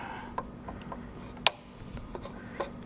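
A small screwdriver works the tiny screws of a Lexus hazard switch, giving a series of sharp little clicks and ratchet-like ticks at irregular spacing, with one louder snap near the middle, close up and without talk.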